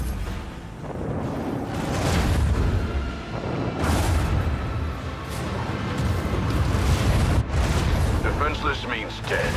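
Torpedo explosions in Warhammer 40000 Rogue Trader, a space-combat video game: sustained deep, rumbling booms and blasts rolling over one another in a dense, loud wall of sound, with speech mixed in.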